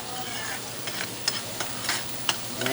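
Scallops sizzle in a pan while being stirred around, a close steady frying hiss broken by several sharp utensil scrapes and clicks.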